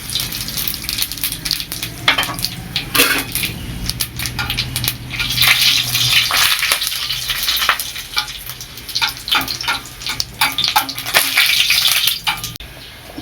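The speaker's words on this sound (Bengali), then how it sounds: "তেলটা গরম হয়ে গেছে, এবার দিয়ে দেব পাঁচফোড়ন আর শুকনো লঙ্কা।" Panch phoron and dried red chillies sizzle and crackle loudly in hot oil, heard up close as dense continuous frying with sharp pops and spice crackles throughout, for a pumpkin greens chachchari with poppy seed.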